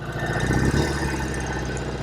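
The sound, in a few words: Norton Commando 750 motorcycle engine running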